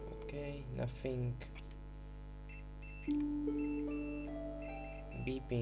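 A multimeter on continuity mode beeps in steady tones while probing the DC jack pins of an Asus X553M laptop, set over a constant low electrical hum, with a voice speaking briefly between tones.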